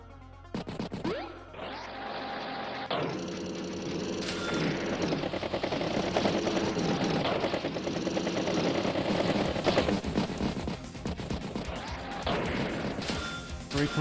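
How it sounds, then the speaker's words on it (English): Unit attacks in the Advance Wars video game, including recon, artillery, tank and battlecopter strikes, sound as a dense, continuous barrage of crashes and rapid gunfire-like blasts with a sharp impact at the start. "Recon does get a good strike there on the artillery"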